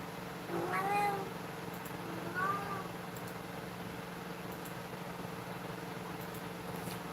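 Two short cat meows, the first rising and a second softer one a moment later, over a steady low hum and background noise.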